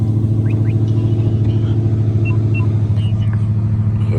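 Rumbling engine of a 2013 Dodge Super Bee, a loud steady idle that stays close and continuous throughout, with faint background noise.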